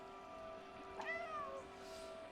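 A single drawn-out cat meow from the video game Stray rises and falls over a steady humming background tone, faint and alone.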